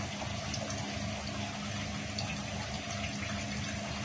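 Water boiling steadily in a pot on the stove while a Phaanu dish is prepared, a dense continuous bubbling hiss at low level with no voices.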